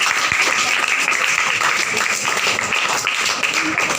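Audience applause honouring the founders at a National Mathematics Day event, a steady, dense clapping that fills the whole stretch at close range with no pause.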